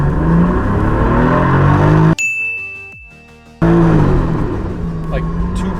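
A Toyota MK4 Supra turbo engine drones loudly under throttle while trying to build boost, cut off midway by a clear ringing chime and a quieter lull before the engine roar returns just as strongly.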